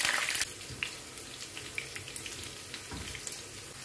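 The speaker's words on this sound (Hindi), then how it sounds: "सब्ज मिर्च को देखे मैंने यहाँ से सेंटर से कट किया हल्का सा, इसको भी फ्राई कर लेना अच्छा सा।" Green chilies, slit down the middle, frying in a pan for Arabic-style rice: a soft, steady sizzle with occasional spits and crackles, quiet and close, with no one speaking.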